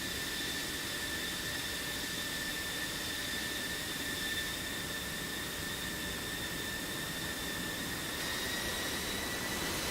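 Jet fighters taxiing with engines running in a flight game air combat match, a steady high-pitched whine and broad roar held without a break, fairly quiet and distant, no voices over it.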